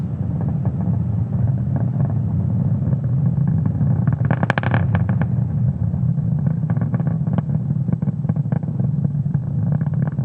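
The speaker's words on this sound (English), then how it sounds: "Now we are throttling down the engines in preparation for Max Q." SpaceX Starlink launch rocket engines during ascent, throttling down toward Max Q, a steady loud low roar with crackling texture and a brief sharp burst near the middle, no voices.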